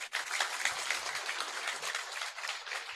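A crowd at an outdoor campaign rally in Papua clapping steadily, a dense even patter of many hands that continues from start to finish at moderate distance.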